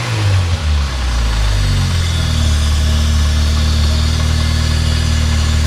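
A Nissan Sentra B13 with the 1.6-litre GA16DE engine idles steadily after a new starter install, running slightly lean, with a loud, close, continuous low hum and a brief rough catch at the start, no talking.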